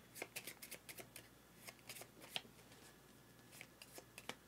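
Cards being shuffled by hand for the Darwin's Journey board game, a string of quick papery riffles and flicks, quiet and close, no voices.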